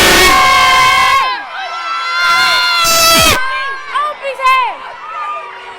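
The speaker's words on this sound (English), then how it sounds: "Give us a cheer there, boys." A crowd of spectators at a Saint Patrick's Day parade in Balbriggan, Irish town, lets out loud bursts of cheering and shouting, with young voices rising in waves that swell, fade, and surge again.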